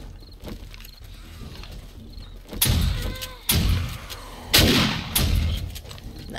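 Shotgun blasts in the zombie survival game 7 Days to Die, with several loud, sharp booms a second or so apart rising over quiet background ambience and distant game sounds.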